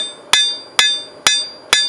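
Hammer blows on a steel skinning-knife blade at an anvil during rough forging, four sharp ringing metallic strikes at an even rhythm with bright lingering ring between them, loud and close, no voices.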